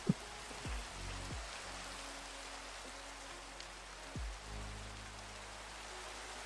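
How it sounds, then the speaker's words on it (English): Rain falls in a hardcore Minecraft world as a soft, steady hiss, with a few faint game tones and a short thud at the start. "I want this rain to go away."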